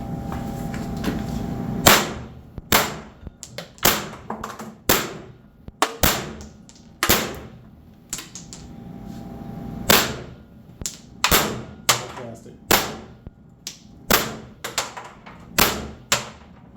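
A Pepperball VKS launcher fed from an ADN drum magazine and powered by a 13 cubic inch air tank fires rounds, sharp loud close pops in a rapid uneven series of more than twenty shots.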